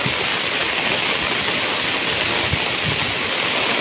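Heavy monsoon rain over a swelling Konkan river in Sindhudurg, a dense, steady roar of rushing water and downpour, loud and unbroken throughout with no voices.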